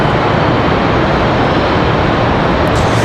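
An airliner departs Charlotte Douglas International Airport bound for Tulsa, a steady, loud broadband engine roar holding without a break through the whole stretch, with no voices.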